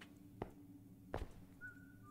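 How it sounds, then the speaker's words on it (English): Short whistles in a horror video game, a faint rising tone near the end, set among a couple of dull thumps and low ambient noise. "Yeah, I can hear your whistles."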